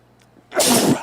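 A single sharp human sneeze, a short inhale followed by a loud, breathy burst, close and clear with no talking over it.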